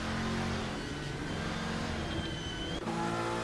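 GT3 race cars roar around the Barcelona circuit in a racing video game, a continuous loud engine drone with shifting pitch as the cars push down the straightaway, with no voices over it.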